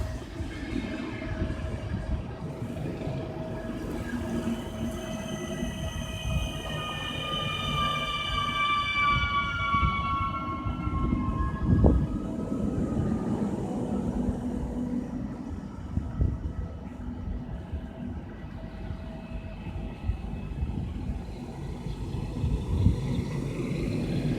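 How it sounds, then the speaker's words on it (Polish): An Express Intercity Odra passenger train rolls past close by, a long continuous rumble with high metallic wheel squeals rising and falling over it. "Wjeżdża pociąg Express Intercity Odra"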